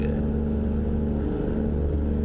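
Steady low engine rumble from a Caterpillar 800 horsepower twin-turbo truck engine in a modded trucking video game, a continuous droning idle with a strong low hum and no talk.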